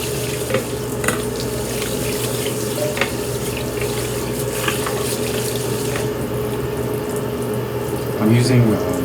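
A faucet runs steadily into a sink as Japanese nishiki rice is stirred and rinsed by hand in a small studio apartment, with close splashing and swishing water throughout.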